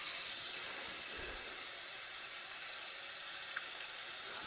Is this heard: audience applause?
no